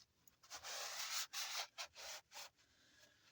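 Used truck brake shoes are scrubbed clean with a series of faint rasping strokes, a long one followed by several shorter back-and-forth rubs, close and quiet with no talking.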